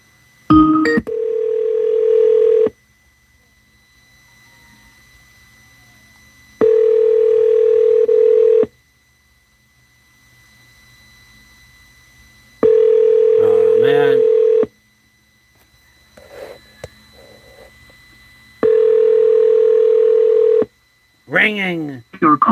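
A telephone ringing tone repeats in long even bursts with silent gaps between, and short bits of speech occur between rings.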